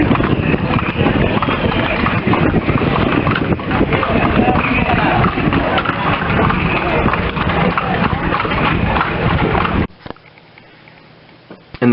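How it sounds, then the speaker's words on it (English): Hooves of a horse pulling a carriage clip-clop steadily through the streets of Granada, Nicaragua, loud and close with a talking voice over them, before the sound drops away abruptly near the end. "the carriage rides in Granada City"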